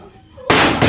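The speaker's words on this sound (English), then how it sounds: "We're going to hear a very elevated sound of that gunfire" Gunfire inside a school during an active shooter incident: after a quiet moment, a sudden loud, sharp blast hits, followed closely by a second burst right at the end.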